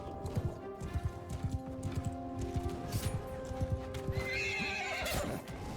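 A horse in the samurai game Shokuho gallops in a quick clip-clop rhythm of hoofbeats and gives a loud whinny near the end. The sound is moderately close, with faint game ambience underneath.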